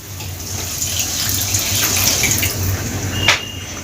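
Water is poured into a cooked-down masala for a mushroom curry, making a steady, close splashing trickle that runs continuously with a slight swell near the end.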